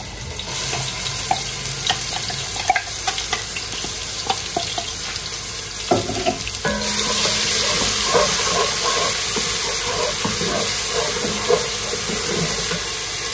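Onions go into hot oil and sizzle loudly and steadily, with frying hiss and crackle that grows fuller partway through, and no talking.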